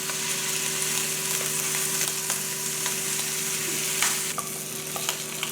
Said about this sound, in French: Et je vais faire revenir les tranches de bacon, juste environ 5 minutes.